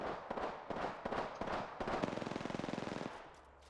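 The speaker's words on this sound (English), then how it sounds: "Listen up, I'm getting shot at." Rapid automatic gunfire from a first-person shooter video game crackles in dense bursts, ending in a fast, evenly spaced volley before tapering off.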